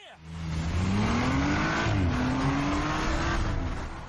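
A Tesla Model 3 Performance launches from a standstill in a drag race against a stock Audi RS5, its electric motor whine rising steadily in pitch over loud road and wind roar, heard from inside the car.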